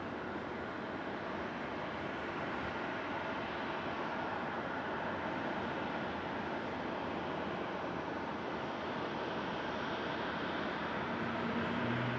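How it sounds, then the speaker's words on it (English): A Southwest airliner landing at Raleigh-Durham International Airport gives a steady, distant broadband roar that holds evenly throughout, with no talk. "Another Southwest landing over here."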